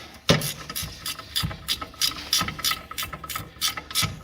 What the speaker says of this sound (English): let's grab the ratchet